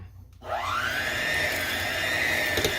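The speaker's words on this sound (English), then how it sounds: "I'm definitely going to use the hand mixer to blend it all well" An electric hand mixer switching on and whirring through firm gelatin, a steady high motor whine rising in pitch after starting, close and continuous with a slight strain as the beaters work.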